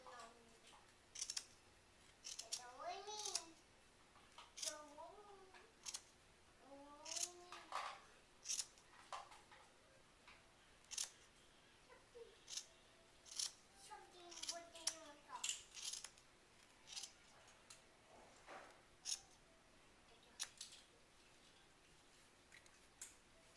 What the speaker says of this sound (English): I'm going to take the scissors and cut all these loops